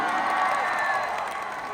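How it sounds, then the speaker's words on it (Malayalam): A large audience at an Onam celebration at Sharjah's Expo Centre claps and cheers loudly, a dense wash of applause with a few shouts that eases slightly toward the end. "മണിയനെ ഇഷ്ടപ്പെട്ടവർ കൈയടിച്ച്"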